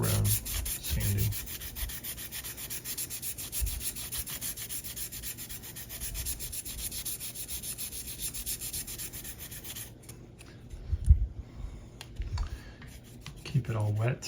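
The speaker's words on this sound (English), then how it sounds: "Just all around sanding." A 3D printed model car body is wet-sanded by hand in steady, quiet up-and-down rubbing strokes that carry on continuously, then stop near the end with a few soft knocks.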